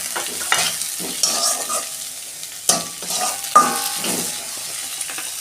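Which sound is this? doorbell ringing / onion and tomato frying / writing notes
onion and tomato frying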